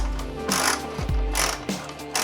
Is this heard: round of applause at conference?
no